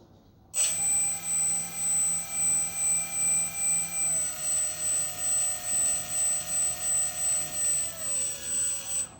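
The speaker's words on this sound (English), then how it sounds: "let's see these props spin for the first time." The small twin propellers of an Xfly P68 mini model plane spin up suddenly into a steady high-pitched motor whine with a pulsing rhythm, loud and close, dropping slightly in pitch midway.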